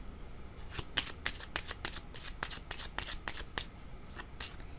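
Tarot-style cards being shuffled for a card reading, a close, steady series of crisp riffling snaps and flutters repeating across the whole stretch without talk.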